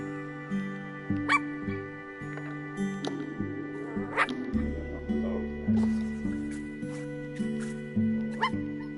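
A dog in the video game I Am Dead gives short yips and whimpering barks in repeated bursts over a looping background music track, moderately loud and close.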